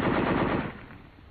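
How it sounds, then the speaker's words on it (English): A tank machine gun fires a short, dense burst, loud and close, with the rattle fading out quickly afterward. "use your machine guns to fill in the pauses while you're loading"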